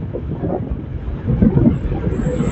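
Steady wind buffets the microphone with a low, rumbling roar that swells slightly toward the end.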